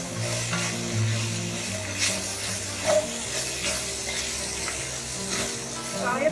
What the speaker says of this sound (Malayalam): നന്നായിട്ട് മിക്സ് ചെയ്ത് ഇതൊന്ന് ഫ്രൈ ആയിട്ട് എടുക്കാം